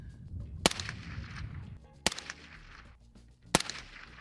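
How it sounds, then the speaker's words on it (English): Three sharp rifle shots from a SIG MCX upper on a 60-yard sight-in test with cheap ammunition, evenly spaced about a second and a half apart, each a loud crack with a short outdoor decay. "Let's call it 60-yard test. Here we go. First shot."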